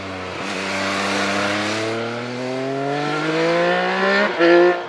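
A 2021 Triumph Speed Triple RS motorcycle's engine and exhaust hum steadily with rising harmonics as revs climb smoothly, close and fairly loud, with a brief dip near the end before picking back up.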